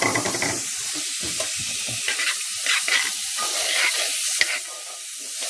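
Garlic and onion sizzle steadily in a hot pan, a bright continuous hiss with a few light clicks and stirring touches, close and alone without speech.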